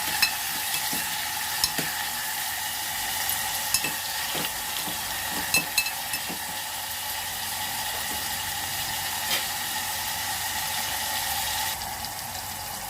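Curry leaves and tomato frying in a pan make a moderate, even sizzle, broken by scattered sharp clicks and taps of a stirring spoon against the pan.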